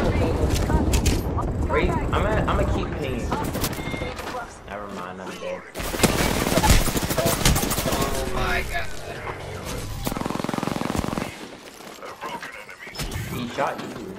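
Rapid bursts of gunfire and chaotic combat effects from an Apex Legends arena match, loud and dense with brief lulls, under excited voices of players talking.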